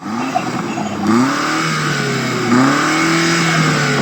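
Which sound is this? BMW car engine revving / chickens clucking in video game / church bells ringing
BMW car engine revving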